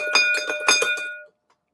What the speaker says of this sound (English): Janetti, I got to ring this bell for you